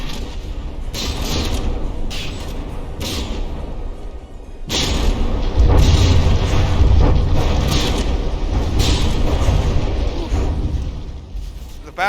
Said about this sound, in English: volley of high explosive shells coming in on the Claymore